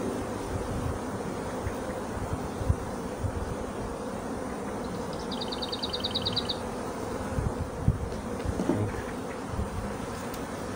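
Honey bees buzzing at an opened beehive after a spring cold snap and hive expansion, giving a close, continuous droning hum with a short, brighter whine in the middle.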